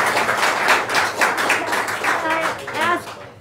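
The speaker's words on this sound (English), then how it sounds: "Can I ask you and the people in the audience to not clap every time?" Scattered audience clapping at a public board meeting, a brief patter of hands that overlaps with a speaker's voice and fades out toward the end.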